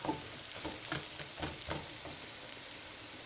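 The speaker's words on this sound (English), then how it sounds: "And now we're gonna put garlic in it." Garlic frying in a pan while fish curry is cooked, giving a steady crackling sizzle with occasional stirring scrapes, fairly close and without talk.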